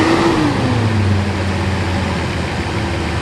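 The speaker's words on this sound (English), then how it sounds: "when the engine is running, you got different readings here" Mercedes 600SEL engine running during throttle body and E-gas module testing, a loud steady broadband roar with a low hum and a slowly falling tone, continuous and close with no speech.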